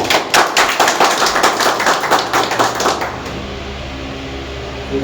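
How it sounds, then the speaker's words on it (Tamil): A small group claps at a trust's administrative meeting, a dense run of hand claps for about three seconds that then stops, leaving a quiet room hum. "பிரமாணம் கைதட்டு"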